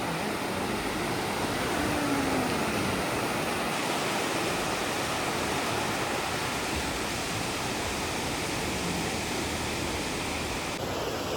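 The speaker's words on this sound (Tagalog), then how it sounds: "Naririnig ang daluyan ng dagat." Sea waves wash onto a sandy beach, a broad continuous roar of surf close by without distinct breaks, no voices.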